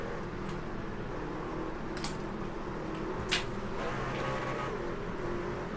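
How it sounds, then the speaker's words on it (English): A truck engine drones steadily at high revs in the ANZCAR Trucks racing game at Atlanta, a continuous mid-level whine with one sharp click partway through and no talking. "As you can hear by the engine revving out."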